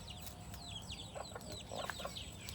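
Chickens and young chicks on a farm cluck and peep in quick, soft calls, several birds chirping over a steady low background hum.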